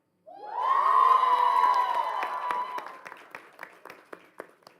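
A school cheer squad at a school board meeting lets out a loud, sustained group cheer of high voices, which fades into scattered claps and whoops.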